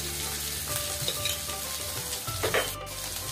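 Masala bhindi (okra) sizzling and frying in a pan while being stirred, with a steady close-up sizzle and occasional scraping strokes of the spoon, no voices.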